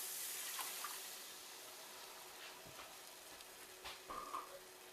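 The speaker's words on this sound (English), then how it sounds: "I'm going to stir this" Milk being stirred into gravy in a frying pan gives a steady broadband sizzle throughout, with scattered light spoon scrapes and small clinks against the pan.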